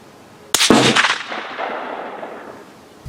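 A single sharp rifle shot from a Noveske AR fitted with a Lencac SC 1903A4 scope at an outdoor range cracks loudly and close, followed by a long, fading echo.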